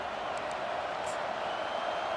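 A large stadium crowd roars steadily in College Football 25, a dense continuous wash of cheering from the stands with no clear peaks, fairly distant.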